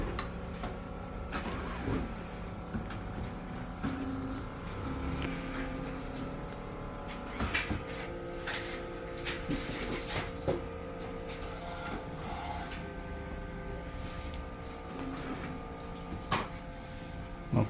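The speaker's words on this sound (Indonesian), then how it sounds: "Kemudian kita nyalakan printernya." A Riecat Alfa Gen3 DTF printer powering on: quiet whirring motors and mechanical clicks as the print head and internals initialize, with intermittent clunks and a steady low hum throughout, fairly faint.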